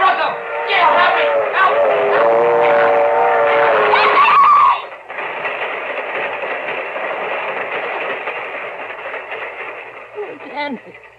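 A train in a live audio drama sounds a loud, wavering whistle for several seconds, then gives way to a steady rumbling roll that gradually fades toward the end.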